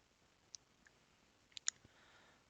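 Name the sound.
mouse clicking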